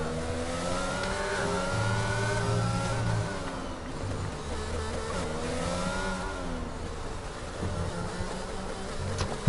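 A racing car engine in an F1 video game lap on the Spanish Grand Prix circuit screams continuously at high revs. The pitch climbs and dips with gear changes and corners, and no one speaks.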